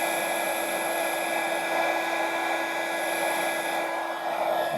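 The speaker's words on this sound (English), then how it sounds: "you can take your embossing gun again over it to be able to dry it" Embossing heat gun blowing steadily over rubbing alcohol on a paper card, a continuous close whirring hiss with a faint whine that holds level for the whole stretch.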